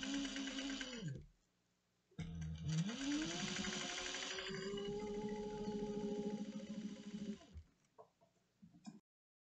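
A sewing machine topstitches fabric for a cross-body sling bag in two bursts. A short run stops briefly, then a longer run rises to full speed and winds down to a few final taps.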